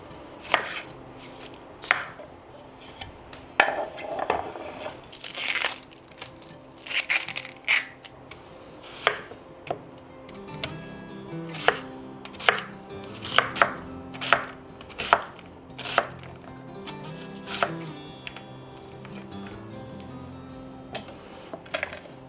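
A knife chops through butternut squash on a cutting board in a home kitchen, giving irregular sharp knocks, sometimes in quick bursts, with quieter handling between cuts.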